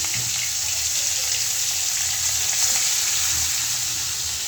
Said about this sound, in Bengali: তো মাছটা দিয়ে দিই, আগে তেলাপিয়া মাছটা ভাজি করি